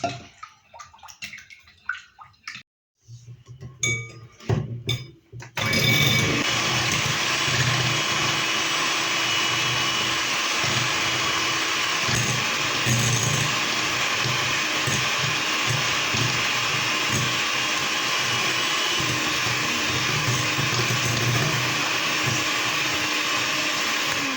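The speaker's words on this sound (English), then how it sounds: "So first is the whipping cream in my bowl. And then I'm going to whisk it." Whipping cream is beaten in a bowl, starting with a few short clatters before a loud, steady whirring mixer drone takes over and holds without pause, close and alone.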